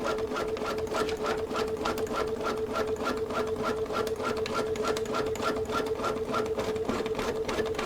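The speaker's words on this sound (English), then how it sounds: "it's sewing right back over that first line, that first basting stitch" A sewing machine stitching back over a basting line on Tyvek stabilizer, a loud, close, rapid rhythmic chatter of the needle held at an even pace throughout, with no one speaking.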